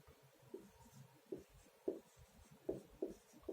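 Faint, close scratches of handwriting come in short strokes at irregular intervals, quiet under a low background hum.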